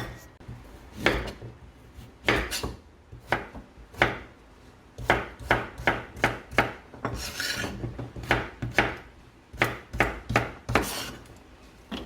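A knife finely chops vegetables for curry on a cutting board in quick bursts of sharp strokes separated by short pauses, close and clear with no talking.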